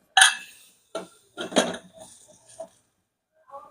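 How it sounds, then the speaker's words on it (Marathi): A pressure cooker lid is fitted on over a ridge gourd curry, giving several close, sharp metallic clanks and clicks with short pauses between them. "कुकरचं झाकण लावून घेऊ."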